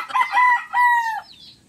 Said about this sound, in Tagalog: Sumasabay sa ating salita ang tilaok nila.